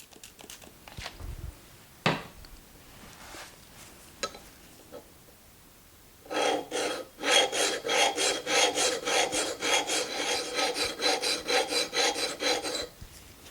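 A Woodriver butt chisel's bevel being sharpened on diamond plates, starting with a few scattered knocks and scrapes, then a long run of loud, rhythmic, rasping back-and-forth strokes close by, with no talking.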